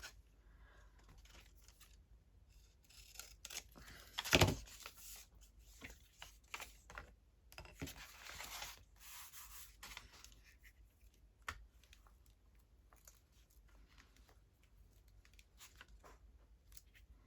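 Scissors trimming paper from a book page for a junk journal, heard as quiet, close snips and rustles of paper, with one sharper cut standing out among scattered softer clips.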